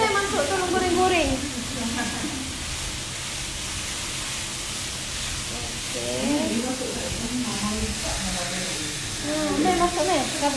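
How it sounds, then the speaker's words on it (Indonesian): Cheese risoles frying in a pan give a steady soft sizzle and hiss throughout, with voices chatting over the cooking noise at moderate level. "Saya masuk tolong goreng-goreng"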